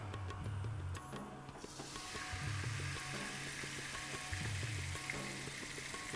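Palm oil sizzles in a hot pan, a steady frying hiss that brightens after a couple of seconds, heard alone over faint low hum.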